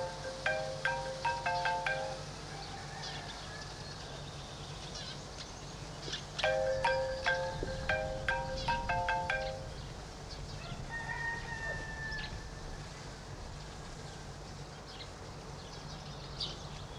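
A phone ringtone plays in a home setting as a repeating melodic tune, two clear bursts of bright tonal notes over steady background noise, with no talk.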